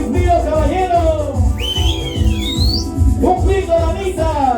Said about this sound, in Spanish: Un fuerte chiflido, caballero.